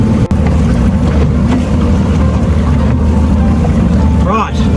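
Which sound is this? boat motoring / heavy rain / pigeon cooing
boat motoring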